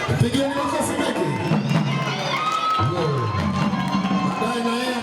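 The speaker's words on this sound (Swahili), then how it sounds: "Pigieni makofi mengi." Crowd at a live concert competition at UDOM cheering and shouting loudly and continuously, with whoops and a voice calling out over the steady roar.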